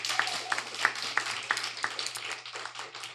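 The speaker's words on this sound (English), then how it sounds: "Please give them a round of applause." Applause for the adjudicators at a school debate, a modest, fairly sparse clapping from a small audience, with several sharper individual claps standing out early and the sound thinning toward the end over a low steady hum.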